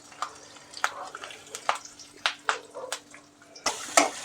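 Finely chopped onion tossed into a hot pan with peanuts, giving a busy crackling sizzle with scraping stirs, swelling to a loud burst of frying near the end.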